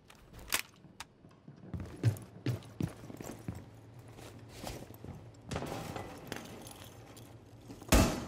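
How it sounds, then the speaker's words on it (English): Metallic clicks and clacks of a weapon magazine being swapped in Rainbow Six Siege, a handful of sharp close handling sounds spaced over several seconds, ending in a louder snap. "Swapping mags!"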